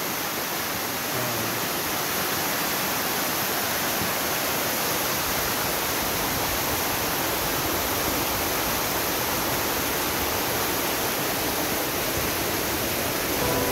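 Masukong Falls in Rodriguez, Rizal, a long, gentle waterfall with a low drop, roars as a continuous broad rushing wash of water. It is close and loud and steady throughout, with no voices.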